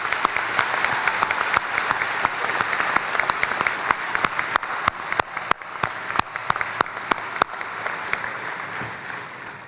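Commencement audience at Muskegon Community College applauding the platform party and faculty; sustained dense clapping fills the hall, with sharper individual claps standing out as it carries on and gradually thins toward the end.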